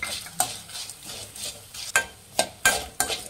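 Spices for Mangalore cucumber sambar fry on a low flame as a spoon stirs and scrapes the pan in several sharp strokes over a soft sizzle, close up and without speech.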